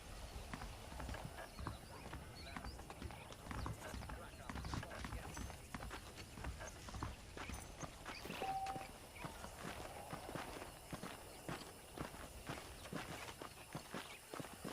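Horse hooves clip-clopping in the western game Red Dead Redemption: a steady, fairly faint walking rhythm of hoofbeats continues throughout, with someone talking over it.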